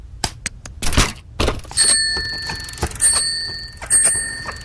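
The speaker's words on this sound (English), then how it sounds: "that bell has quite the recoil." A bright metallic bell, like a bicycle bell, rings in three short repeated bursts after a few dull thumps and knocks in a cartoon scene with Bart's friend.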